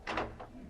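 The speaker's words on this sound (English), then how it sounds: "I now open the door." A cabinet door opening as a radio comedy sound effect in a conjuring sketch, a short muffled wooden creak and thump, brief and moderately close.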